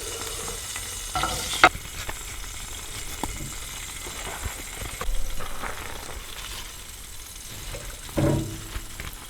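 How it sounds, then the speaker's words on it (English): Steady frying sizzle crackles as a burger and mushrooms fry in burger fat in a pan throughout, with occasional scraping and stirring clatter close by. "All the mushrooms fried in the burger fat."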